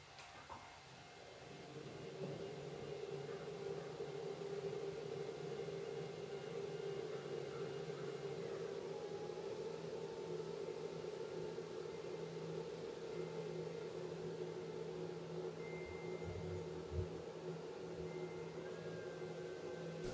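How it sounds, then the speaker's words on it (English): Motors on a 10 GHz dish test rig run at full speed, giving a steady, moderately quiet electric whine and hum with a constant tonal drone that holds unchanged throughout. "the motors are running at full tilt"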